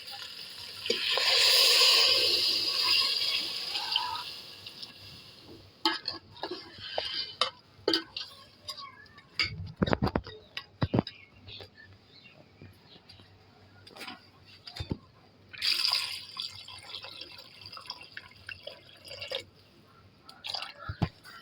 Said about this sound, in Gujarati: હવે નાખવાનું છે પાણી.